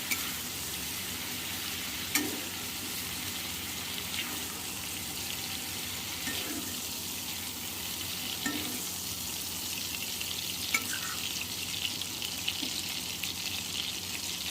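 Prawns frying in hot oil in a pan give off a steady, close sizzle and crackle, with a few faint stirring scrapes and no voices.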